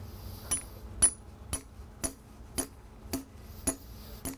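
Regular sharp metallic taps, about eight, evenly spaced around half a second apart, ring out close and moderately loud as a torque-controlled expansion through-bolt anchor and steel fixture are set into a hole drilled in concrete.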